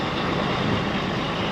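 A farm truck runs steadily ahead of a haylage cutting, giving a continuous close engine rumble with no breaks or voices over a brief stretch.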